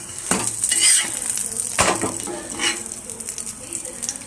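Bun parotta fries in oil on a hot dosa pan, giving a steady close sizzle with a few sharper pops and spatters as the bread settles, no talking.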